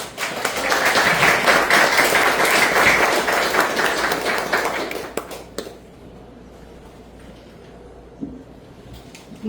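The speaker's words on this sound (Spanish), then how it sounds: "Le damos un fuerte aplauso." An auditorium audience applauds loudly for about five seconds, then the clapping dies away into a quiet room with a few scattered taps.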